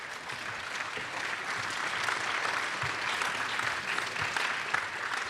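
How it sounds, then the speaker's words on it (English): A live-stream discussion audience in Fort Worth gives the final panel a steady, dense round of applause, many hands clapping together at an even level with no talk over it. "Give one last round of applause for our last panel"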